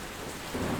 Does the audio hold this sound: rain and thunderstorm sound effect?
yes